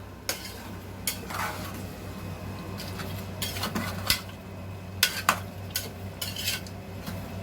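A spoon scraping and clinking against a pot while chicken masala is stirred after salt goes in, with irregular metallic knocks and scrapes over a low, steady hum.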